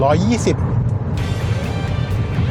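A 2019 BMW 320d GT M Sport (F34) diesel engine hums steadily under road and wind noise inside the cabin while climbing onto a bridge at 120 km/h, with a person speaking briefly at the start.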